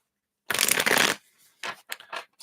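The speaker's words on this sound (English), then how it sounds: "Let's give me this one more shuffle." A deck of tarot cards is riffled in one loud, close burst of crisp fluttering, followed by a few softer shuffling rustles.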